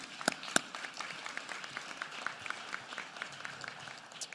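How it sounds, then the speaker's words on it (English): Audience applause in a school district State of Public Education address, a scattering of claps with a few sharp louder ones near the start, fairly quiet and thin throughout. "I think that is worthy of an applause"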